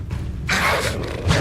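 An Incendio fire spell is cast in the Hogwarts Legacy video game: after a brief quiet, a sudden broad whooshing burst flares up and roars steadily for about a second, swelling again at the end.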